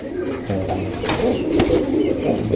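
Low, throaty pigeon coos murmur continuously close by, several birds overlapping in a soft rolling drone.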